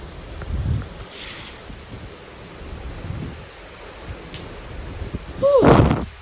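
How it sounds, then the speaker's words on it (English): Heavy rain from a strong thunderstorm with local flooding, a steady hiss throughout with low rumbling swells and a louder burst near the end. "Most insane strong storm I've ever been in."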